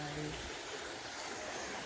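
A stream flows at a lagoon in the countryside, making a soft, steady rushing wash of water that is faint and unbroken throughout.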